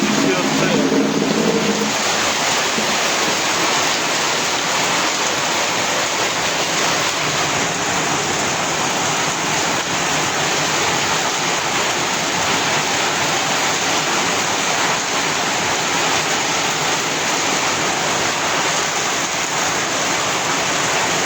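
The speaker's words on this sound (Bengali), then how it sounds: "সেই লেভেলের বৃষ্টি হচ্ছে প্রিয় দর্শক, প্রচুর বৃষ্টি হচ্ছে, বর্ষাকালের মতো।" Heavy monsoon-like rain pouring down in Sundarganj, a loud, unbroken wash of hiss and roar that holds steady for over twenty seconds, with a voice talking faintly beneath it early on.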